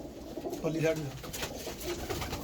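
A soft pigeon coo rises briefly amid a noisy background, with a person talking faintly nearby.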